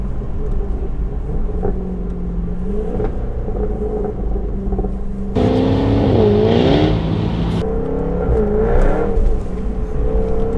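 A Jaguar F-Type V8 S, a 500 hp rear-wheel-drive car on a rainy road, rumbles steadily and then surges louder as the engine revs with a rising, wavering whine, fairly close and with no speech.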